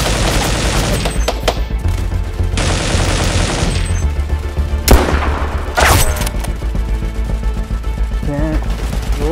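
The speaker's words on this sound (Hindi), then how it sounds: "बेबी फायर कर, रेबल फायर करता रहे।" Gunfire crackles through an outdoor real-life PUBG-style game in Pakistan: loud bursts of rapid shots, with a few sharp single cracks and booming thumps layered between the volleys.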